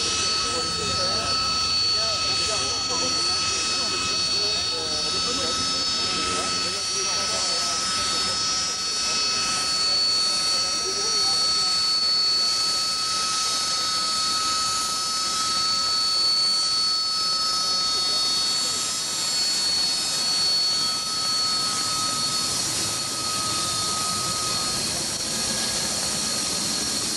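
A Socata aircraft flying at a 1993 air show at Cambrai air base 103, a loud steady engine and jet roar lasting throughout, with a commentator talking over it.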